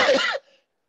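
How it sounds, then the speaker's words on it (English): A single harsh cough, loud and close, from a speaker during a Friday evening church service; the burst lasts under half a second before cutting to silence. "I apologize for the coughing"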